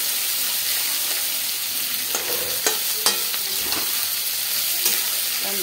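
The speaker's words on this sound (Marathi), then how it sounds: "कांदा परतून घ्यायचा" Lots of chopped onion sautéing in a pan with hing, a steady close sizzle with scattered scrapes and clicks of a spatula stirring throughout.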